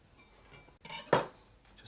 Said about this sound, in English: Right, get my knife. Let's just nip the end off.